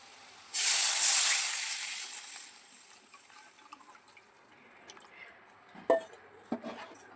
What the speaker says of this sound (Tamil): நம்ம கரைச்சி வச்ச புளி தண்ணியும் ஊற்ற போகிறோம்ப்பா.